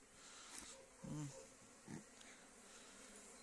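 Honeybees hum around the hives of an apiary in March, a faint steady buzz with individual bees swelling briefly louder as they pass close.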